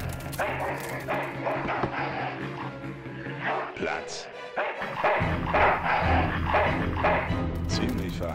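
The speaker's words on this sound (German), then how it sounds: "Verhaltensgestörter Köter." A dog barks and yips in the video game Full Throttle Remastered, a cluster of sharp barks and a whimper over a busy game soundtrack, loud and close.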